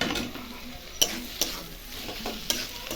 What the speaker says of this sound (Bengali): গরম মশলা দিয়ে একটু নাড়াচাড়া করে আমার হয়ে গেল বাঁধাকপিটা